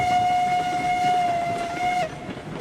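Montezuma, a small steam locomotive in RailRoads Online, runs along the rails with a steady, loud, continuous whistle-like tone over a rolling rumble that drops away near the end.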